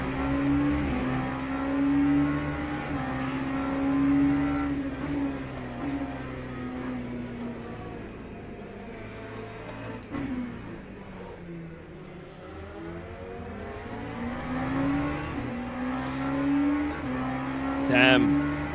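Race car engines in a sim racing game with an LMP3 prototype in the field, revving and shifting through rising and falling pitch sweeps, with cars passing; someone talks over the engine noise.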